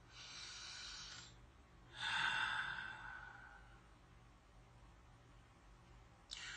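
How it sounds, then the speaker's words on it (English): A deep breath drawn in and slowly let out, close and soft, with a short breathy rush at the very end. "Take a deep breath."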